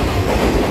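An EMU900 electric multiple unit, a ten-car silver-green regional express, roars past close by with a steady loud rumble and wheel clatter throughout the short moment.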